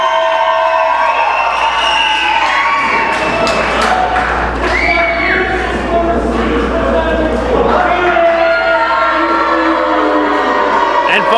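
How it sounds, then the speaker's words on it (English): Wrestling arena crowd reacting to a wrestler, a loud, dense mass of shouting, jeering and whooping voices rising and falling in waves, with thuds beneath, close and continuous throughout. "if you can't tell just from that alone, the crowd does not like the Deacon of Doom"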